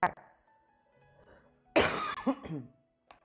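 A loud, rough cough bursts out close up, followed by a few raspy throat-clearing hacks, with a short sharp noise at the start and end.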